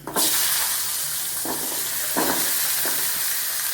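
Whole small onions (shallots), peeled and washed, drop into hot oil and burst into a loud, close, continuous sizzle, with a few soft stirring scrapes breaking through the hiss.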